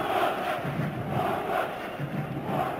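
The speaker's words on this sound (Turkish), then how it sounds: "Seyircinin alkışları arasında sahayı terk ediyor Hakan." A stadium crowd at a Galatasaray versus Sparta Prague Champions League football match roars and applauds as a player leaves the pitch, a broad, sustained wash of distant cheering.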